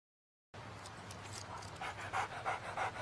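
A dog pants steadily and fairly loudly up close, a rhythmic breathy huffing that grows stronger toward the end, heard alone without talk.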